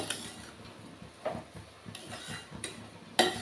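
Semolina and sugar for apple kesari are stirred in a pan with a spoon that taps and scrapes the metal. The clinks are close, sparse and irregular, and a sharper knock comes near the end.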